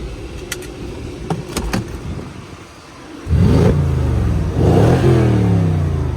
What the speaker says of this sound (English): And let's hear the exhaust.